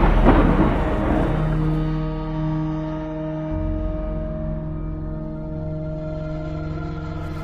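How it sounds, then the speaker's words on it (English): Thunder crashes loudly from a violent storm battering a church in Bungay, the deep rumble fading quickly into a sustained low drone with a second swell midway. "people covered their ears from the loud crashing and earth-rattling booms from the storm"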